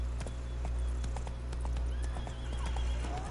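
Roach the horse gallops in The Witcher 3, rhythmic hoofbeats close and steady over a low rumble of ambient game sound.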